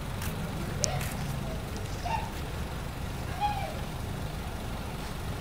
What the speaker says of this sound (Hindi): तो आप सुन सकते हो सुपर साइलेंट जो है ये इंजन है